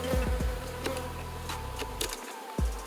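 Bees buzz around a small comb being lifted out of a little tree, a steady droning hum that rises and falls, with a few low thumps and bumps of handling near the start and end.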